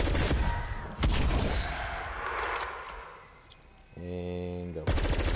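Galil rifle in a zombies video game emptying a 90-round magazine in rapid automatic bursts, loud and close, ending with a mechanical reload clatter.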